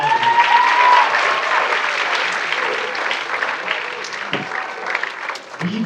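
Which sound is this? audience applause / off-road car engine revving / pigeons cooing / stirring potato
audience applause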